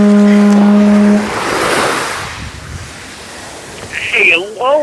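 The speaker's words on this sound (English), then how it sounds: "I hear the conch." A conch shell blown on a beach gives one loud, steady horn-like blast lasting about a second over wind and surf, followed by a voice speaking nearby.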